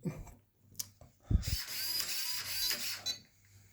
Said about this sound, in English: with the replacement motor compared to the original Traxxas 550 brush motor. This one is brushless.